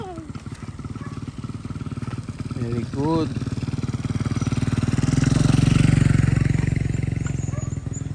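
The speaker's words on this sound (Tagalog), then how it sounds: "Oh, gilid, gilid. May motor." A motorcycle on a rural province road approaches and passes close by, its engine putting steadily and swelling louder before fading, while a person speaks briefly over it.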